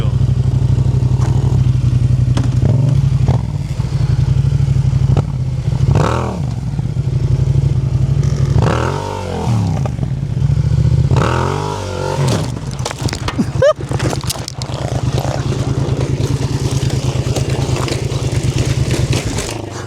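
A Yamaha MT-07 motorcycle engine drones loudly up close while drifting, rising and falling in repeated revs, with a burst of scraping clatter partway through and brief voices.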